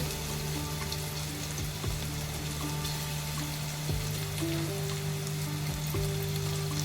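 Crushed ginger-garlic paste and cumin sizzle in hot oil for monsoon-special mirchi vada: a soft, steady frying hiss over a low electrical hum, with no talking.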